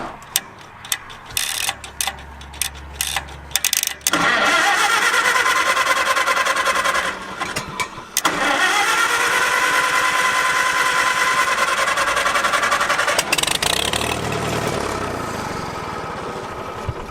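An abandoned, fuel-starved tractor engine cranks in short bursts, then grinds through long loud stretches of starter whine, cutting out and restarting without catching.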